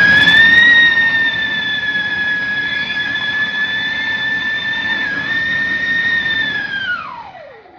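A loud, steady siren-like whistle from a Sivakasi siren firecracker holds a high pitch for several seconds, then swoops downward and fades at the end.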